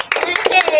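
A few people clap their hands in short uneven bursts at a circumcision celebration, close and loud, with voices talking over the claps.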